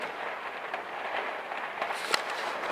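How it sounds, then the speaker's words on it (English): Rain drums steadily on a skylight overhead during a December downpour, a continuous close hiss with scattered sharper drop taps and one louder tick near the end. "can you hear the rain?"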